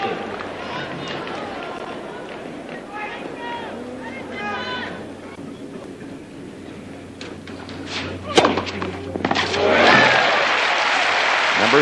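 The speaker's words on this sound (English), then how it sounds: "They cheer." A tennis crowd at a match between Edberg and Chang cheering and applauding, a broad wash of clapping that swells louder toward the end, with a commentator talking over it.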